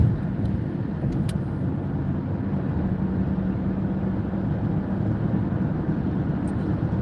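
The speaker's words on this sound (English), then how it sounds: "Traffic is moving pretty good." Busy road traffic heard from inside a moving car, a steady low rumble of engine and tire noise with no talk over it.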